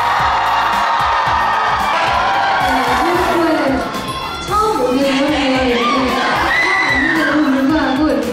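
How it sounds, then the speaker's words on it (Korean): A concert audience in Toronto cheers and screams for a K-pop group: loud, continuous crowd whoops and shrieks that dip briefly midway, then surge again while someone talks over the noise. "이렇게 크게 환호해 주셔서 너무 감사합니다"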